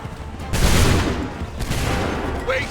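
Soldiers fire a musket volley in Assassin's Creed 3, a loud, close, rolling burst of gunfire that sustains for a couple of seconds before tapering off.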